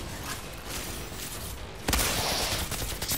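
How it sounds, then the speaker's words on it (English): Automatic machine gun fire in the sci-fi shooter game Outriders, a steady dense burst that gets louder partway through and then holds, with no talk over it. "at least I have loads of ammo for my machine gun"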